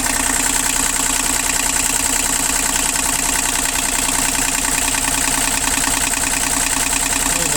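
A Japanese mini excavator with a 0.01 cubic metre bucket idles up close, its engine running steadily and evenly with a constant rhythmic knock and no talk.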